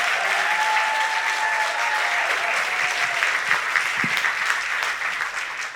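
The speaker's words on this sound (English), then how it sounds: "please give her a round of applause" A large crowd applauds steadily and loudly throughout, a dense wash of clapping with a few faint tonal sounds in the background.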